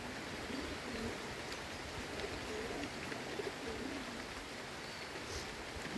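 Pigeons of a large fancy breed coo softly and repeatedly in a rooftop coop during rain, their low murmuring calls faint beneath a steady hiss of falling rain.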